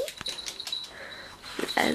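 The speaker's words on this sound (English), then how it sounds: "Hello, puppy." Puppy whimpering at a fun fair, a few soft yips and whines close by, with a person talking to it in between.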